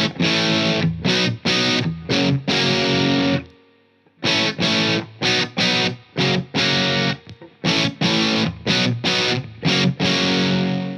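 An ES-335 electric guitar through a Revival Drive overdrive boosted by a Saturn 6 booster pedal chugs out a rhythmic riff of heavily distorted, choppy chord stabs, with one brief pause in the middle and no talk.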